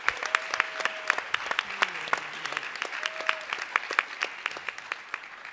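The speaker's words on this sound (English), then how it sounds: "Let's give a round of applause." A small audience applauds student ambassadors after a sports initiative pitch to a panel, with distinct, individual claps in a loose rhythm close by, and faint tones and a brief murmur in the background.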